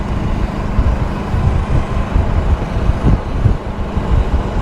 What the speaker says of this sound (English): that is a gas golf cart directly in front of us